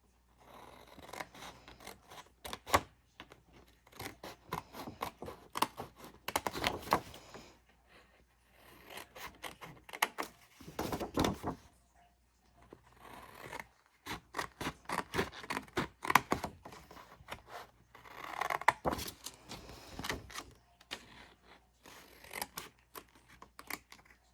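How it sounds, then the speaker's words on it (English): Scissors snip out long rectangles from a template for a craft-fair K-Cup holder, in quiet close-up bursts of rapid cuts separated by short pauses, with light rustling between them. "You're going to cut those out."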